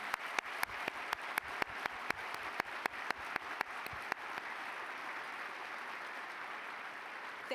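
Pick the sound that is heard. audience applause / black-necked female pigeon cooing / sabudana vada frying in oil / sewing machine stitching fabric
audience applause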